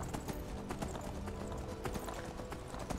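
Horse hooves clip-clop in a quick, steady trotting rhythm throughout in the video game Skyrim, fairly quiet under a faint background hum, with no voices.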